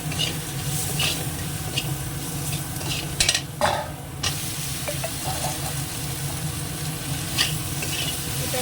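Food stirred and sautéed in a pan with salt, sugar and green chilli: a steady close sizzle under repeated scraping strokes of a spoon, with a few sharper clinks of utensil against the pan partway through.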